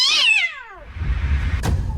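A cat lets out a loud, sharp screech that wails and falls, followed by a brief scuffling clatter, close by with no talking.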